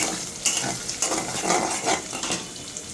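Seasoned Maggi noodles frying in a pan, a steady sizzle under repeated scraping strokes of a spatula against the metal, close and fairly loud throughout.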